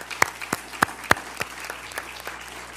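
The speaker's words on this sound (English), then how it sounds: "How about another round of applause for Michaela Jones of Potomac High School?" A few people at a school board of education meeting clap, sparse separate claps fading out over a few seconds in a quiet room, with no voices heard.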